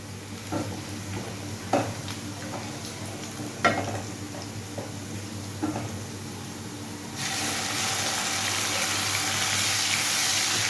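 Onion fries in a pan for egg curry with a steady sizzle, a few scraping stirs over it, and then a louder broad hiss that holds to the end.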